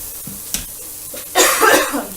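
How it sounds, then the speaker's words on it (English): A single sharp cough, then a rougher throat-clearing burst, close by in a kitchen while onions and mushrooms cook, with faint background clatter. "I'm so sorry about this cough."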